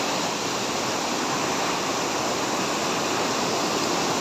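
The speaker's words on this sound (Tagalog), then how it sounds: "Tingnan natin yung falls ngayon. Maganda yan sigurado dahil medyo malaking tubig. Malapad ang falls." Balon-Balon Falls, a wide waterfall carrying heavy water, roars as a dense, constant wash of noise, loud and unbroken, with no voices.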